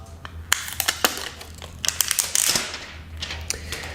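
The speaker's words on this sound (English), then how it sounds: "go ahead and peel this off" Crinkly crackling of a plastic protective film being peeled off a Samsung Galaxy A70 phone, a close run of irregular sharp snaps and rustles rising to a denser burst midway.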